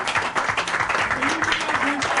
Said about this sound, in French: Merci d'applaudir très fort pour elle.